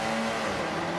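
Race car engine in Forza Motorsport 5 accelerating with a steady, loud droning tone, a continuous motor whine that holds a single pitch briefly.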